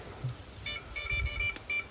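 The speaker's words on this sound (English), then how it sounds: "When you switch on the emergency beeping, it helps you track it down" A series of short high-pitched electronic beeps from a DJI Avata drone's emergency locator, five or so in an uneven rhythm, moderately loud over faint background noise.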